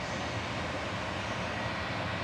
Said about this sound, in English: EasyJet departing to Amsterdam.